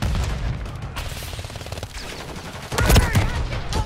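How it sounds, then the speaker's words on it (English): Grenades explode amid rapid gunfire in Call of Duty Modern Warfare 3, a loud, dense barrage of blasts and shots with a heavier burst near the end. "Bro, it's too many fucking grenades just going on."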